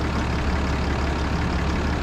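A vehicle engine idles steadily while cooling off at a campground, a low, even rumble at close range with no voices.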